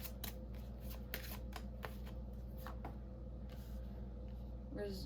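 Tarot cards being shuffled and laid down in a series of quick, soft riffling flicks and taps over a steady low hum, fairly close and moderately quiet.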